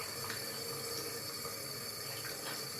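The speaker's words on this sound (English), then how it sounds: "now we're going to start rinsing our hands off" Running tap water splashing over hands being rinsed at a sink, a steady continuous wash heard close up with no talking.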